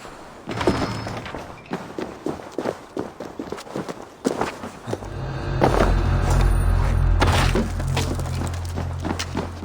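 A huge, poorly anchored chain crashes down in Assassin's Creed Valhalla, heavy thuds and clanking impacts giving way to a deep, rumbling roar of falling metal.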